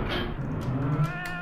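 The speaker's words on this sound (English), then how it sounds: "I hear the cats literally under the stairs." Cat meowing in a Roblox game, the banana cat, a short drawn-out close meow over a low background hum.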